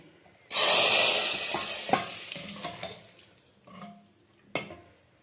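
Oil is poured into a hot pan of Lahori chickpea chole, setting off a sudden loud sizzle that slowly fades. Scattered spoon clinks and stirring scrapes follow close by.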